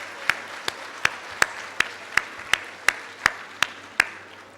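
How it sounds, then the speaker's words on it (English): Clapping at a family strengthening summit, heard as a sharp, evenly spaced run of about a dozen distinct claps at a steady rhythm over quiet background. "Give them a round of applause."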